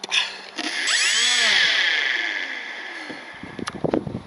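Electric motor and propeller of an RC Cessna TTX model plane on a ground throttle run: a whine climbs in pitch, holds steady, then winds down and fades, with a few clicks and handling knocks near the end.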